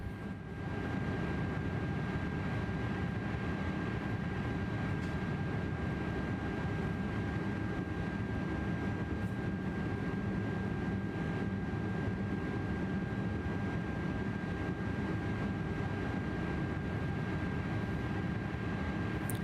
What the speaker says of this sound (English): Our engine is about to be powered up here.